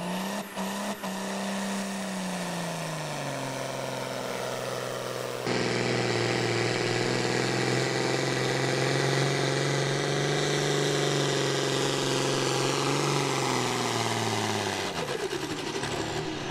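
A John Deere outlaw farm pulling tractor idles at a pull event, a steady loud rumbling drone with a slight rise in intensity partway through, then tapering at the end, with no talk over it.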